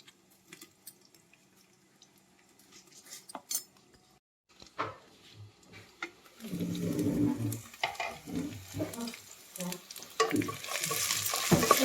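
Ivy gourd being stirred in a pan in a Tamil home kitchen, starting with sparse utensil clinks and scrapes, then building into steady sizzling frying with repeated spoon stirs against the pan, close and fairly quiet.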